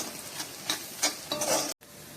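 Masala and turmeric powder being stirred in a hot pan, several quick scraping strokes over a light sizzle that cut off abruptly near the end, close, with no voices.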